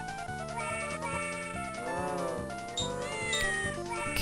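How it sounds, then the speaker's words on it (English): Cartoon cat meowing in The Incredible Machine puzzle game, a stretched, wavering meow over steady, looping game music, no talk. "Cat is in the way."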